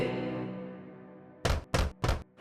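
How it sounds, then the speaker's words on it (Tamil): Three firm knocks on a cottage door in a children's story, quick and close, following a fading tonal ring. "எனவே அது மீண்டும் குடிசைக்கு சென்று கதவை தட்டியது"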